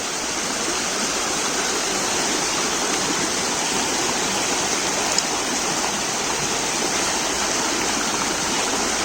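Steady rushing of flowing stream water, loud and continuous, with no voices.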